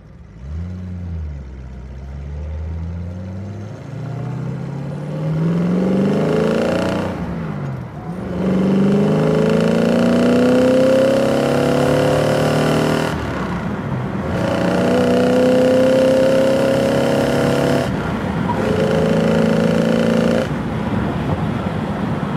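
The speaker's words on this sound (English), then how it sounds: "you know you're in a big block, and you know you're in a very good big block. It pulls." A 1968 Shelby GT500 convertible with a big-block V8 revs and accelerates hard through several rising gear pulls, each climbing strongly before a brief dip at the shift, loud and close from inside the car.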